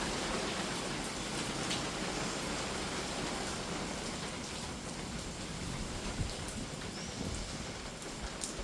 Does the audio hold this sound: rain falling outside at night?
yes